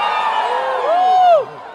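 Spectators at a Moscow fighting event cheer and whoop loudly, a dense steady roar with a rising then falling shout cresting near the end before dropping away.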